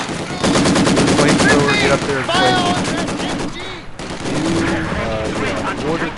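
Rapid machine-gun bursts crackle through a Company of Heroes 2 battle, loud and sustained across the scene with voices talking over the gunfire.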